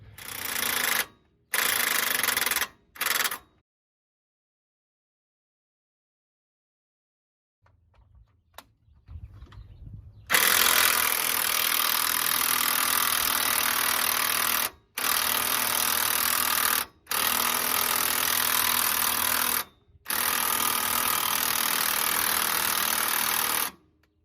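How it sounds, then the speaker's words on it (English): An air impact wrench on non-impact-rated extensions works at a seized nut on a Ford Explorer radius arm. It fires loud, close, rattling bursts, short at first, then long sustained runs separated by brief pauses. "we're gonna hook the impact wrench to it"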